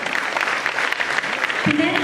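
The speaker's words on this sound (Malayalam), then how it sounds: "നമുക്ക് നല്ല കയ്യടി ഇവിടെ സ്വീകരിക്കണ്ടേ?" Audience applause at a seafood eatery event, a dense burst of clapping heard close and steady for about two seconds, with voices mixed in.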